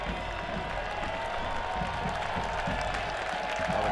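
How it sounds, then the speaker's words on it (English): At a Louisville City FC versus Pittsburgh Riverhounds soccer match, a stadium crowd gives a steady, broad wash of applause and crowd noise with no clear breaks, while a commentator talks over it. "Crowd really giving Ownby a round of applause here"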